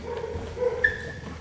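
A young dog in an obedience and leash-training session gives short, soft whimpers and a yip, close by and brief, over a quiet room.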